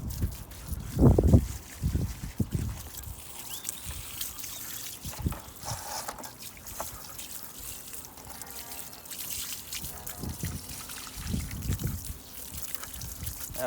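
Water trickles and splashes in short bursts, a hose rinsing an early-1980s Victa Commando lawn mower engine, spraying over metal, with brief pauses between spurts and some background clatter.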